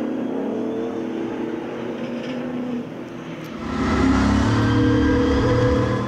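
V8 Thundercars race cars racing closely on a circuit: a steady engine roar that swells into louder, harsher revving partway through, heard from a moderate distance.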